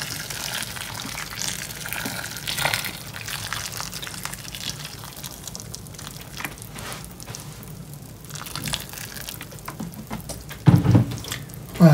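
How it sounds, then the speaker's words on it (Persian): Boiling water poured onto tamarind in a kitchen pot, a soft continuous splashing and gurgling stream that ebbs and surges, ending with a couple of louder knocks. "خب آب جوش رو من اضافه میکنم به این."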